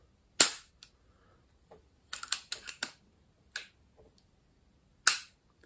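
A Pardini K12 Absorber air pistol fires in live mode with one sharp, close crack, followed by a quick run of mechanical clicks as it is handled and re-cocked, then a second sharp shot near the end.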